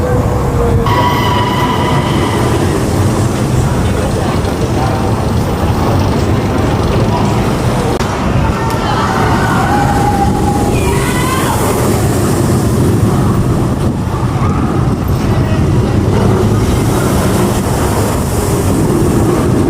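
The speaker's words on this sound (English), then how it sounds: "Well, there goes the Hogwarts Express." The Hogwarts Express train at Universal Orlando rumbles past in a loud, continuous roar of wheels and carriages with faint squeals, as crowd voices murmur underneath.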